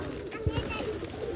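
Pigeons cooing at close range as several birds land on a perch, with a few low coos and wing thumps standing out over a steady background and no speech.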